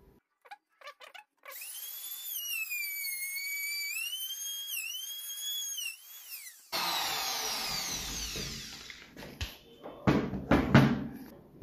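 A milling machine with a router bit held in a collet adapter gives a high, wavering motor whine that rises and dips for several seconds. It then gives way to a rougher, noisier cutting rasp with scattered knocks near the end.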